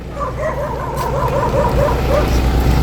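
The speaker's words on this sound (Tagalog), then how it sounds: "Ang daming aso." Several dogs bark and yip in a rapid, overlapping chorus nearby, over a low rumbling background.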